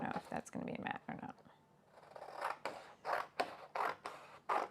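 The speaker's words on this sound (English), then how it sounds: "I might regret just doing that with scissors." Scissors cut a strip of paper in a scrapbooking session, a few crisp snips close to the microphone, with talking heard partway through.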